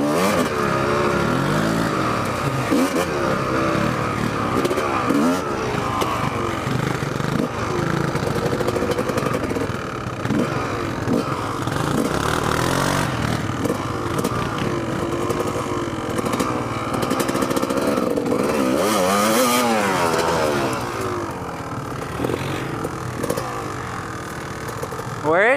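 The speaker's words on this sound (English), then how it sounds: "That's pretty badass scrambler" A scrambler motorcycle engine revs and rumbles throughout, rising and falling in pitch, while people talk over it.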